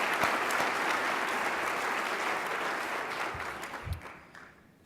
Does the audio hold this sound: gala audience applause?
yes